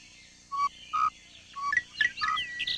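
Tropical birds give short clear tonal whistles and chirps, a few separate notes followed by a quicker cluster of brighter tweets, close and fairly faint against a quiet background.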